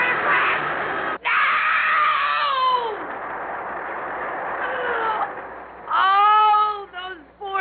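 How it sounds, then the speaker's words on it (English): Screams from people after a crash in a radio drama, shrill wailing cries that rise and fall, loud and close, with a short gap and then a final burst of layered shrieks near the end. "And the screams. All those screaming people."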